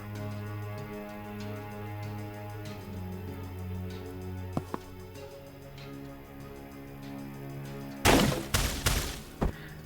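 Gunfire in the turn-based video game Tactical Breach Wizards: a soft tonal music bed and a couple of small clicks lead to a sharp, loud volley of three or four close shots near the end.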